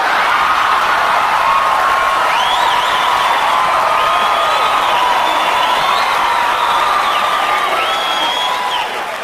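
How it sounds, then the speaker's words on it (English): A stand-up comedy audience breaks into sustained loud applause and cheering, with whoops rising above a dense, steady wall of clapping that lasts the whole stretch. "you guys are clapping and you're laughing"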